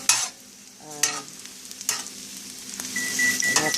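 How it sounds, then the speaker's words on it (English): Sweet potatoes and onions fry and caramelize in a pan, giving a soft, steady sizzle broken by a few sharp scraping bursts of stirring, close and moderately quiet with no talking. "really nice, nice and brown sweet potatoes with the onions. The onions are kind of caramelizing"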